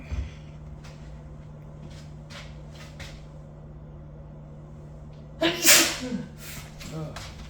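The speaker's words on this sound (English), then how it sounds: "I didn't sneeze in my hand. I sneezed in my shoulder." A single sharp sneeze bursts out after several seconds of quiet room tone, followed by a brief rustle.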